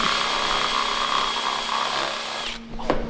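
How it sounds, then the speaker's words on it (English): A power drill bores holes through metal to make a bracket for a custom beach racer build, a steady close whine held for over two seconds before it cuts off, followed by a brief clunk. "drilling the holes and making a bracket"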